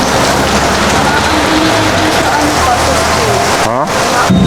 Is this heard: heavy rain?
yes